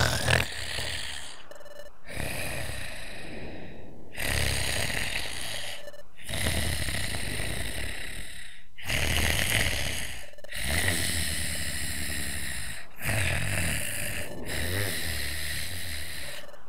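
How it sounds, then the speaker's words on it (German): A Pokémon character snores loudly in Pokémon Mystery Dungeon: Explorers of Sky, a regular series of about eight heavy, rasping snore bursts separated by short breaths. "schnarcht so laut."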